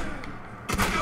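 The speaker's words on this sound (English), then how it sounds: "Double barrel shotgun." A double-barrel shotgun in Fallout 4 fires a single sharp, heavy blast partway through, cutting through a low, busy game background.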